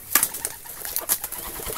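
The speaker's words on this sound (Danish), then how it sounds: "Der kom lige en due." A pigeon coos in a garden, with soft calls amid outdoor birdsong and light chirps that continue throughout; no one speaks.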